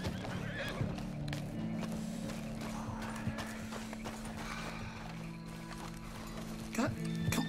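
A horse whinnies and hooves clip-clop amid a busy Red Dead Redemption 2 game soundscape, with a low steady drone and someone talking over it.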